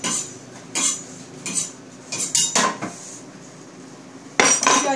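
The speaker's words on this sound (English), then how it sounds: "in the meanwhile, I can cut up some chilies too." A knife chops chilies on a chopping board, giving several crisp, close knocks in uneven bursts with short pauses between them and no voices.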